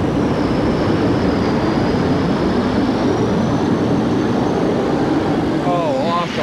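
A loud, sustained turbine roar from a twin-turbine pulling tractor at a 1989 tractor pull in Louisville, like a jet engine, steady and powerful throughout, with a crowd voice briefly audible near the end.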